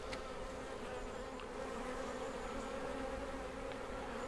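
Honeybees at an acacia honey hive, a steady dense buzzing drone that holds evenly throughout with no talk.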